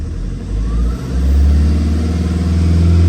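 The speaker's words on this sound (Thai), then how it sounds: "เครื่องสตาร์ทติดได้นะ" A Tata car engine running under revving, a loud, close, steady mid-pitched drone that swells after a short dip and holds a rough, even hum, with no talking over it.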